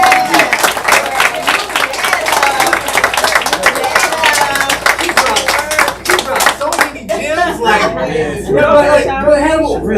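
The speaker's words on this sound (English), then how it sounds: "give her another round of applause." Audience applause for a speaker at a town hall: loud, dense clapping from a crowd that thins out toward the end, giving way to chatter and a few laughs.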